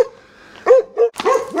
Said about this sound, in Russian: На станции собака тут нервничает.